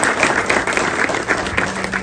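An audience at a city business event breaks into applause, a dense, even wash of many hands clapping at a moderate distance for a couple of seconds, with faint voices underneath.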